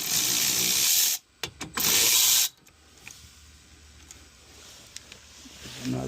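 A power tool zips out a 10mm bolt on a 2023 Kia Sorento Hybrid during an oil service, in two loud, harsh whirring bursts close by, followed by quieter workshop background.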